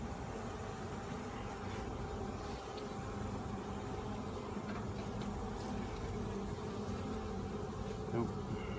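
Honey bees drone steadily around a weak mini nuc hive, a dense, continuous buzz close by with no pauses, broken only by a faint click near the end.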